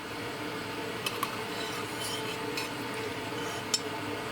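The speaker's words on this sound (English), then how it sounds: "Now let me go ahead and grab a spoon. Give it all a good mix." A spoon stirs taco sauce in a pot, with a soft continuous swirl broken by a few sharp metallic clinks against the side, close and fairly quiet.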